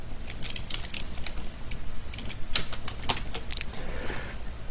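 Fingers tap out a short burst of typing on a computer keyboard, quick irregular clicks close up with a few louder key strikes, alone without any talking.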